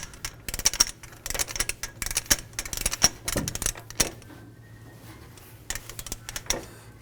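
A torque wrench tightens the front axle nut on a 2011-2017 Honda Odyssey during a wheel bearing and hub replacement, giving close, rapid bursts of irregular ratcheting clicks with short pauses.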